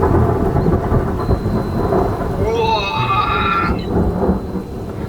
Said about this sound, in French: C'est quoi ces orages de malade?